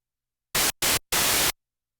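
Korg MS-20 synthesizer noise generator producing harsh hissing white noise in three bursts, two short ones and then a longer one, close and loud against silence.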